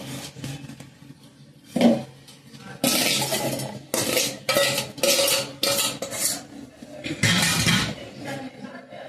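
A metal spoon stirs ginger pickle in a pot, giving repeated scraping and clinking strokes in steady bursts, close and fairly loud.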